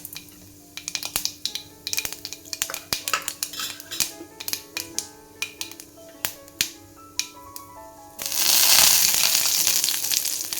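Asafoetida added to hot oil while tempering mor kuzhambu crackles in sharp, irregular pops near at hand, then a louder, steady hiss of sizzling takes over near the end.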